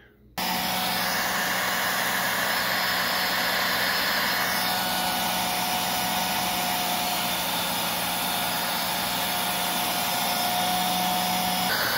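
A Simplicity Wonder vacuum cleaner body runs steadily for an airflow measurement, a loud constant motor whine and rushing air starting abruptly and holding without a break, with a slight shift in tone partway through.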